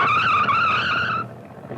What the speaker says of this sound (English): This is the place to test your car, see what it'll really do.